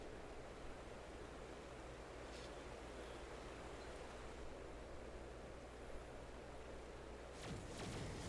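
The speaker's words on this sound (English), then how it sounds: "Oh, I hear water." Water in the Final Fantasy XIV game world washes in a soft, steady rushing wash like distant surf, fairly faint and unbroken throughout.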